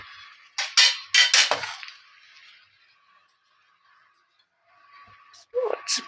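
A lid goes onto a pot of Bengali chicken curry, giving a few sharp metallic clinks and clatters close by, then a quiet pause before a last brief clink and rattle.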